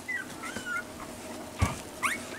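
Soft, high-pitched whimpers and faint squeaks from week-old puppies, a few thin cries scattered through a quiet stretch.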